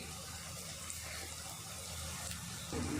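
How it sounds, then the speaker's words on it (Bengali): Water poured into a Bengali Rohu fish kalia curry, heard as a faint steady running splash that swells slightly near the end. "তো এবার আমি দিয়ে দেব জল"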